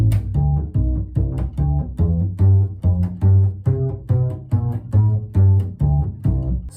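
Bass guitar played staccato, the right hand cutting off each string's vibration so notes stop short, in a steady rhythmic line of punchy, clipped low notes played alone and up close.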